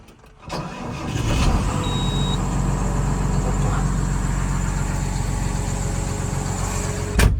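A John Deere 6530 tractor, 145 horsepower with 7827 engine hours, cranks briefly and fires up, settling into a steady, even diesel idle that runs close and loud for several seconds.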